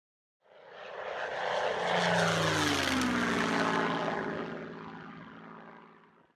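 Two World War II fighters, a Spitfire and a Messerschmitt Bf 109, fly along a coastline in 1940, their propeller engines rising into a loud, sustained drone with a descending pitch sweep as they pass, with no talking.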